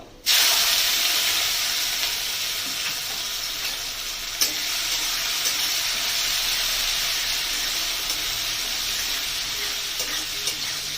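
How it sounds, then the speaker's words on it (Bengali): Drained soaked moong dal hits a hot pan with oil and bay leaf, setting off a loud, continuous sizzle and hiss that stays steady up close, broken by one brief tap of a utensil. "ভিজিয়ে রেখেছিলাম মুগ ডাল, এই ডালটাকে এবার জল ঝরিয়ে রেখেছি, এবার এটাকে দিয়ে দেবো"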